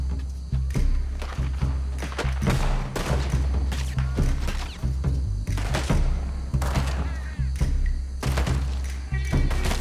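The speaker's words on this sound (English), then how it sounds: "I hear bullets, but I don't see any" Rapid gunfire in the Red Dead Redemption 2 western game, sharp thuds and cracks firing in dense irregular bursts throughout, loud and close over a low rumbling game background.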